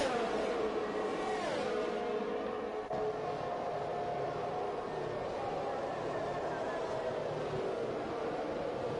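Race cars in the SRL racing game roar past in a pack running three wide, engines droning and shifting pitch steadily with tyre and wind noise and a commentator talking over them.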